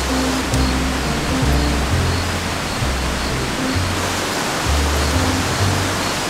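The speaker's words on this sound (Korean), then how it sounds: "비가 와버리네." Rain falls in a forest around a campsite as a dense, constant hiss, with low humming tones pulsing underneath.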